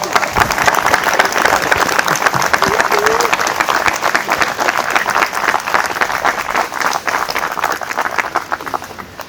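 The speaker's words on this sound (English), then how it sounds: "Give her a huge round of applause." Wedding guests at a ceremony break into loud, sustained applause, a dense close wash of clapping that continues throughout with a bit of murmuring mixed in.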